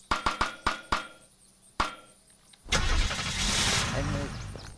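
A vehicle is destroyed in the video game Unturned: a quick run of sharp impacts, a lone hit, then a loud sustained roaring rumble that slowly fades.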